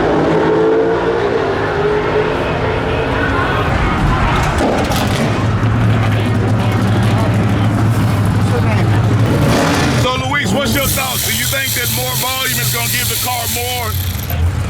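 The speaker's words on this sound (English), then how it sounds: "Right now, I'm just shifting in my feel because the shift light is not working." A Dodge Demon roars loudly throughout a drag race, its engine pitch climbing and dropping as gears shift, with a driver talking over the noise inside the car.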